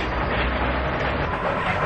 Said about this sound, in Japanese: 夜の電車で一人寂しく乗って